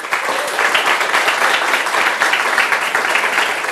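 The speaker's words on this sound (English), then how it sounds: "So let us applaud our principals." An audience claps steadily for school principals at a parent-involvement event, a dense, continuous round of applause that holds at an even level from start to finish with no voices rising above it.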